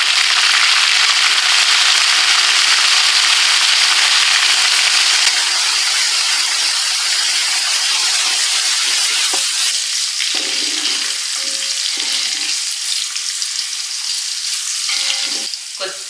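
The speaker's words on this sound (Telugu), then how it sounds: "ఇప్పుడు మనం ఇందులో ఒక కట్ట పుదీనా, ఒక కట్ట కొత్తిమీర యాడ్ చేసుకుందాం" Mint and coriander bunches fry with onions in a pot for a 2 kg chicken biryani, giving a loud, steady sizzle throughout, with occasional stirring scrapes toward the end.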